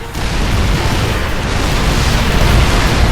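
Dense, continuous rumbling explosions from a StarCraft II battle between air fleets of Phoenixes, battlecruisers and Ravens, a loud unbroken wall of booms and bursts with no clear pauses.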